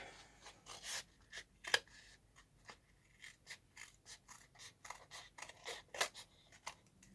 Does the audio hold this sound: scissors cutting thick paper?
yes